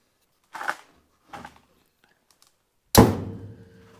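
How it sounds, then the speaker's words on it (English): A car door with added interior insulation slams shut with a loud, solid thud, preceded by a couple of softer handling bumps. "Let's move the door panel and shut the door."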